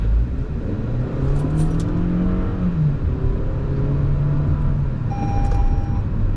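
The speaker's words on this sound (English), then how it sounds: "I'm going to floor this, give it gas a little bit" 2022 Toyota Camry SE accelerating at full throttle from inside the cabin, engine drone rising steadily in pitch with a brief gear shift, loud and continuous, and a short chime near the end.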